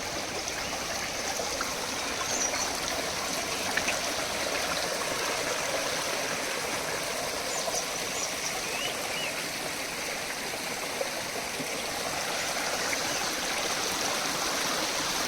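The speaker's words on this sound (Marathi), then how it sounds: "जमिनीच्या खालतून पाणी येते" Spring water flows and trickles steadily up from the ground for the whole stretch, a constant bubbling stream with no voices, close and even in loudness.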